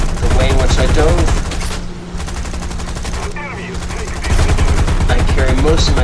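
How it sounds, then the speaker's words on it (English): Sustained automatic gunfire from an enemy firing on the player's aircraft in War Thunder, a loud dense rattle that dips briefly in the middle before returning at full strength, with no talk over it. "this guy who is shooting me is not going to stop"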